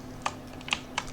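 Three crisp, sharp keystrokes on a computer keyboard, close and quiet, spaced irregularly over a faint steady hum.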